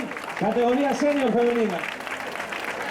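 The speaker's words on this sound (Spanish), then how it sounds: "El aplauso para el podium" A crowd applauds the podium at a trophy ceremony for a charity fun run. The applause is brief and steady, and a voice speaks over it on a loudspeaker.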